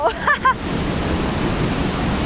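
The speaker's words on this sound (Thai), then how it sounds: "ตอนนี้เราก็มาอยู่กันที่น้ำตกเหวนรกแล้วนะคะ" Haew Narok waterfall in Thailand, a loud, steady rush of falling water filling the whole clip, with a few brief voices at the very start.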